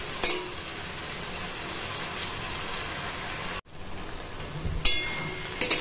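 Hilsa fish head with taro leaves fries in a pan, sugar melted in, giving a steady close sizzle and crackle that drops out briefly midway before resuming with a few sharp pops.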